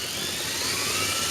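An engine is spun over by an electric drill, giving a steady, loud whirring drone throughout, with no one speaking.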